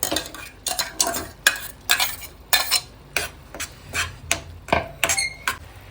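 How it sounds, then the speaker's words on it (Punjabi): Grapes and green chillies cooking in a pan over a low flame, stirred with a utensil in repeated scraping strokes with light clinks against the metal, under a soft continuous sizzle; no talking. "ਚੰਗੀ ਤਰ੍ਹਾਂ ਆਪਾਂ ਇਹਨਾਂ ਨੂੰ ਮਿਕਸ ਕਰ ਲਾਂਗੇ ਤੇ ਸਲੋ ਫਲੇਮ ਤੇ ਇਸੇ ਤਰ੍ਹਾਂ ਹੀ ਪਕਾਉਂਦੇ ਰਵਾਂਗੇ"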